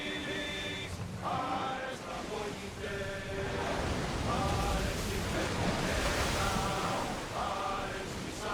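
Ocean waves on open water in Assassin's Creed Odyssey, a continuous wash of surf and wind at moderate level, with recurring tonal game sounds layered over it.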